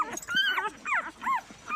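A mother dog and her puppies trapped under earthquake rubble give several high, wavering whimpers and yips, faint and muffled, in short separate cries.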